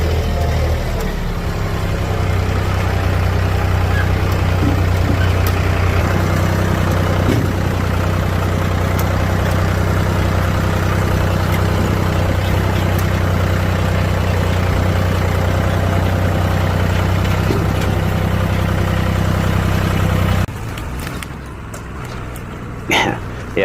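A tractor engine runs hard and steady while pushing a smouldering burn pile back together, a loud continuous rumble with rattling mechanical texture that drops off sharply near the end.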